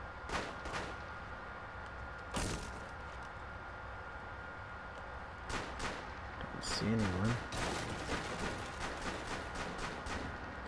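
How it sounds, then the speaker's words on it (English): Gunfire in a Rainbow Six Siege round rings out in a few sharp bursts amid a steady game ambience, with brief rumbling impacts scattered across the stretch. "Hear the gunshots?"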